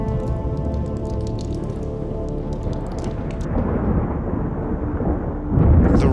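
Heavy rain pours down in Death Valley, a dense steady wash of falling water that holds at a constant level and swells louder near the end, with no voices.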